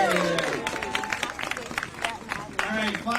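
An audience applauds for a student speaker at an outdoor groundhog-day prediction event, steady mid-distance clapping mixed with crowd murmur and some voices over it.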